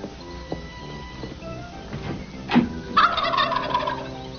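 A domestic turkey gobbles, with scattered shorter calls first and then a louder rattling gobble burst near the end, close and alone without talk.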